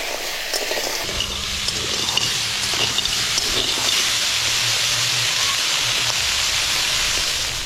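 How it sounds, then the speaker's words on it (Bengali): Crabs frying in hot oil for a spicy village-style crab curry give a loud, continuous sizzling hiss that holds steady throughout, with no voices over it. "এবার কাঁকড়াগুলোকে লাল লাল করে ভেজে নেব।"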